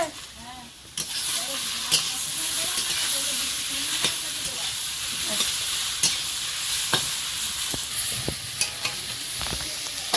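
Prawns hiss and sizzle loudly in a pan, broken by repeated sharp clacks of a spatula stirring and scraping, with faint voices in the background.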